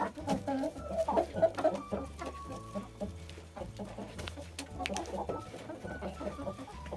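Leghorn hens and a rooster cluck in soft, intermittent bursts close by, with quiet rustling and no talk.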